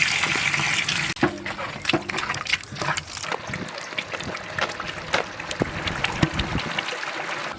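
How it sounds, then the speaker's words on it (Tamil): Water poured into an onion, tomato and curry leaf masala for a village-style butter chicken cooked outdoors, a steady gushing splash and sizzle running for several seconds with a sharp change near the start. "மசாலாவுக்கு தேவையான அளவு தண்ணி"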